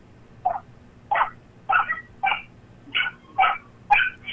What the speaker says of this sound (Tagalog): May kumakahol-kahol sa paligid